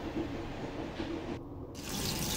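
White fungus washed and soaked under a running tap for a lung-moistening cordyceps soup, heard as a steady, close hiss of flowing water with a short change in tone midway.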